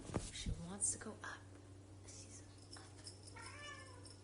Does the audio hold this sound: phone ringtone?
no